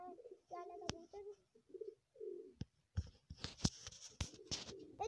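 Soft pigeon coos repeat in short rounded phrases, followed by sharp clattering taps and rustling nearby.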